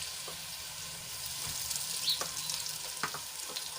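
Green chillies sautéing in a pan while cooking a Gujarati thali, giving a steady close sizzle with a few small pops and crackles and no voices.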